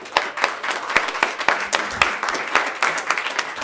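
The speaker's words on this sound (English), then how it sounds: "Big round of applause for everybody that's coming new and keep coming." An audience at a 1 Million Cups startup showcase event in Kansas City claps in sustained applause, a dense and close run of hand claps that holds steady for the whole stretch.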